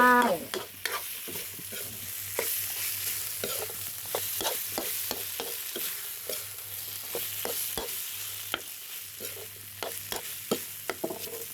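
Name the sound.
stir-frying field catfish with southern Thai curry paste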